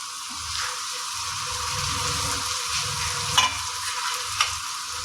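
Potatoes and long beans drop into a spice paste frying in oil, bringing a steady close sizzle with low stirring rumbles and a couple of sharp clinks near the end.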